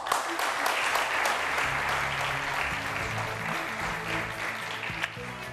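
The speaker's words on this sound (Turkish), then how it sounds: "İsterseniz bir de moral alkışı vereyim size" Studio audience on a Turkish TV word-game quiz show breaks into sustained applause, a dense, even roar of many hands clapping with a faint musical tone underneath, fading slightly near the end.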